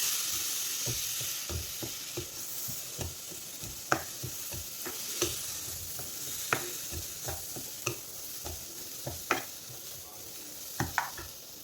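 Washed rice for a Kerala-style mussel biryani fries in a pan with a low, even sizzle, broken by repeated sharp scrapes and knocks of a spoon stirring it, fairly close and with no talking.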